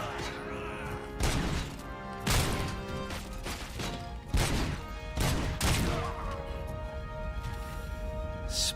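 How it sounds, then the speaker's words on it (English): Headshot splats in the RoboCop: Rogue City video game, several short sharp impacts spaced through the clip amid gunfire and game effects, with a voice talking underneath. "I love the little splats that the headshots make."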